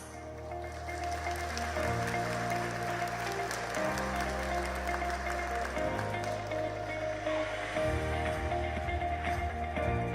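A conference audience applauds to welcome a former Prime Minister of Denmark to the stage at the 2025 Yushan Forum, a continuous crowd clapping heard under loud, stepping walk-on music.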